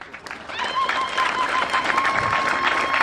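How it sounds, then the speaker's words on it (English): Graduation crowd at a Christian vocational boarding school in Bor clapping for a husband, a dense sustained round of applause that swells after a moment, with a ringing tone layered over it. "Please let me clap for this great gentleman."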